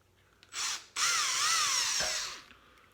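A power drill opens up a Hot Wheels toy car with a short whine, a pause, then a longer high-pitched burst that wavers as the bit bites into the metal. It is close and clear, with no talking.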